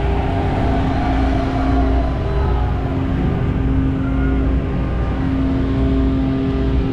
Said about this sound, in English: I hear a bike being revved.